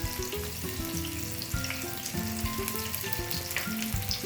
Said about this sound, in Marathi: एकदम गरम तेलामध्ये आपल्याला परत एक मिनिटभर हे तळून घ्यायचंय